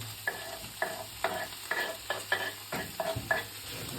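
Meat and onions frying in a skillet, a soft sizzle broken by about eight rhythmic scraping stirs of a utensil across the pan, close and clear with no talk.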